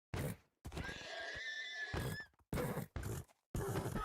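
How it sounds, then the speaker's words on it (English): Several horses whinny and neigh in a video game, loud, close bursts with a long drawn-out call in the middle and shorter cries separated by brief pauses, no voices. "Oh, more horses. All the horses are going."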